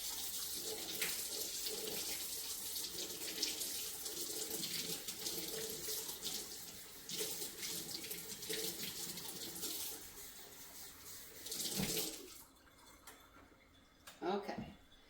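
Warm water runs from a kitchen sink tap in a steady, splashing stream for about twelve seconds, then stops, leaving a few faint clinks and small handling sounds.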